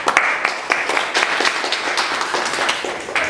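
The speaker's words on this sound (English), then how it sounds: "I think we should give Tav a round of applause." An audience at a startup event in Guangzhou gives a round of applause, a dense burst of many hands clapping close and loud, continuing steadily for a few seconds.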